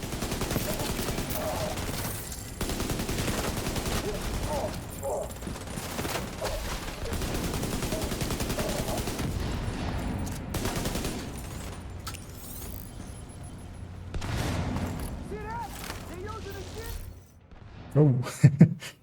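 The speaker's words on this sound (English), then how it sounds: "And something is shooting me in the back." Enemy gunfire in a shooter game: dense bursts of automatic fire and scattered shots rattle through most of the stretch, thinning out later, with a few sharp close reports near the end.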